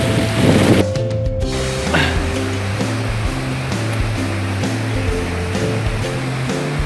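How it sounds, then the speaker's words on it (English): Waterfall along a hiking trail at Willard Bay, Utah, a steady broadband rush of falling water heard from nearby, partly mixed with low tonal hum and brief wind buffeting early on. "There's the waterfall though, one of them."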